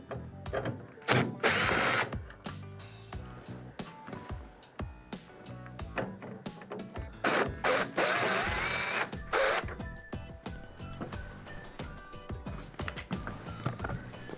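Number 2 Phillips screws on the left and right sides of a Whirlpool or Maytag microwave grill are backed out with a power driver, giving several loud bursts of whirring and ratcheting amid quieter clicks and handling clatter.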